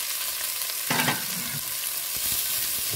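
Red and green capsicum fry in a little oil with a steady, soft sizzle, a brief louder burst as pieces are stirred, and light scraping of the spatula toward the end.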